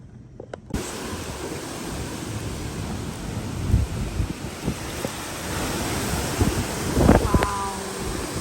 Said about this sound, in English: it's honestly just mostly a lot of wind, not an absurd amount of rain. But the winds are crazy